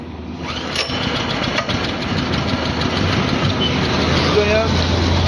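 A mini tractor engine starts and settles into a loud, steady running rumble, with a brief clatter at the start and some talk nearby.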